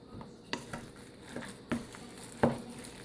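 Spring roll filling for Filipino lumpiang Shanghai is mixed by hand in a held bowl, giving soft irregular patters and light clinks against the bowl, with a few sharper knocks spaced through the quiet stretch.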